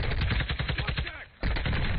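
Rapid bursts of gunfire in a shooter video game, a near, loud, repeating crackle that stops briefly before resuming; faint voices may sit underneath.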